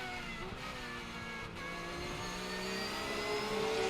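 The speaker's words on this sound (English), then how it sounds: "So let's see if he can improve himself here on board with Robert Reinauer in the Herbert Porsche" Onboard sound from a Porsche race car during qualifying at the Coppa Florio 12H in Sicily, with the engine droning close and loud and its pitch rising steadily as the car accelerates.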